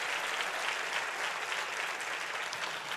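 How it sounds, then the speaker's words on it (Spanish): A church congregation claps together in a long, even burst of applause, fairly soft and distant, with no voices standing out. "hazlo con un fuerte aplauso para la gloria de Dios"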